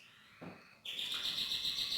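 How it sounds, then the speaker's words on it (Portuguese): A bird sings inside a house, with a brief soft note and then a bright, sustained high whistle that rings on clearly against a quiet room. "Tem um passarinho aqui na casa onde que eu estou que ele não para de cantar"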